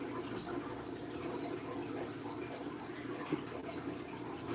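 Water runs continuously in a fish tank, a soft, even trickling and bubbling wash held at a low, steady level with one small splash-like tick, and no one talks.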